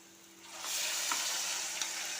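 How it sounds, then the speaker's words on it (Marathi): Onion and ground masala paste fry in hot oil, giving a close, steady sizzle that swells as the paste is stirred, with a few faint scraping stirs and no talking. "आणि हा वाटण आपल्याला 2-3 मिनिटं छान परतवून घ्यायचा आहे।"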